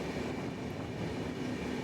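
Indian Railways train running through a tunnel on a hilly route to Nagpur, a dense continuous rumbling roar with steady wheel noise, loud and unbroken.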